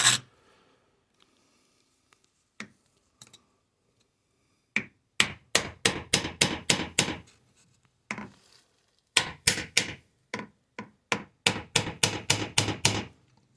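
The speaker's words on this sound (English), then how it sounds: "It's highly advisable to keep hitting the chisel, not your hand." A hammer strikes a chisel to split a Wheel Horse tractor transmission case, sharp metallic blows landing in quick bursts of several hits after a few isolated taps, close and loud with silence between.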